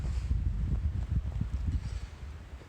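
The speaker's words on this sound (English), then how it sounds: "Now it's windy." Wind gusts through a snowy forest, heard as a low, uneven buffeting rumble close to the microphone, with no talking.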